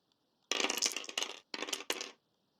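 Six dice clatter together in a tabletop wargame roll: a sharp burst of rattling and tumbling that breaks into several quick bouncing clusters before settling, close and clear with no talk.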